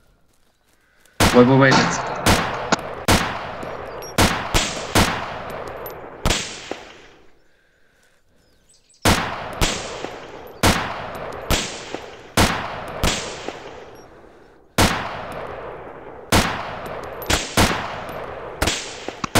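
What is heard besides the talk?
gunshots fired in the video game DayZ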